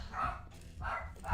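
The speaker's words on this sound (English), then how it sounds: "it's just my dogs being triggered over nothing" Several dogs bark in short bursts indoors, three loud clustered volleys with brief gaps between them, close to the listener.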